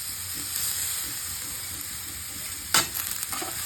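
Beetroot frying in hot ghee in a wok, a steady soft sizzle with a hiss running throughout, then a sharp burst of louder crackling near the end as something stirs or drops in.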